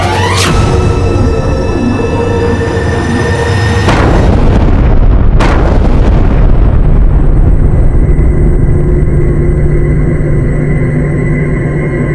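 A buried gunpowder charge explodes in a dramatized historical battle scene, a loud close blast with heavy rumbling that rolls on and fades slowly into a long roar.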